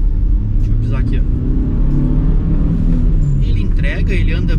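A Peugeot Partner Rapid van with a 1.4 engine accelerates, its engine droning in a steady low rumble throughout, with a voice talking over it.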